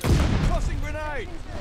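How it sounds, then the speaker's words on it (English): Grenade toss in the Call of Duty Vanguard shooter, a brief burst of gunfire-like booms at the start followed by in-game chatter and tonal effects, with a voice calling out. "Tossing grenade!"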